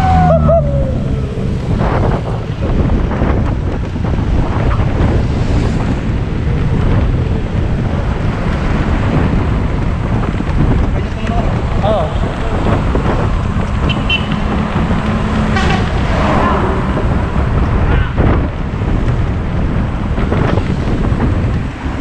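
Strong wind buffeting the microphone during a road cycling ride at around 31 km/h near Santa Cruz, Laguna, a loud continuous rumbling roar with traffic noise underneath.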